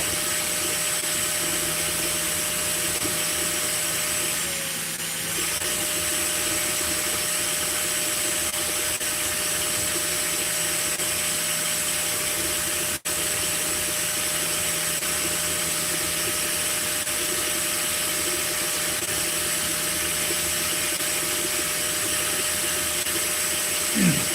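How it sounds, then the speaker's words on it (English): A FLSUN S1 3D printer running fast, giving a continuous loud whirring and fan hiss with steady tonal hum, nearly unchanging for the whole stretch apart from a brief dip and a single sharp click partway through. "That is the fastest printer I've ever seen print."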